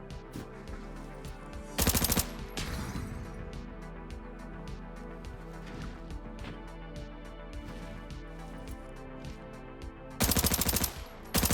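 Gunfire in the Arena Breakout video game, fired at Molotovs in midair: two loud, dense bursts of rapid shots, one early and one near the end, over a steady low game background.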